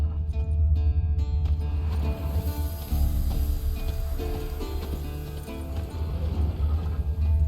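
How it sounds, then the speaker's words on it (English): Eskel's horse Scorpion in The Witcher 3, hooves and shuffling movement over a low ambient rumble, moderately close and without talk. "That's his horse."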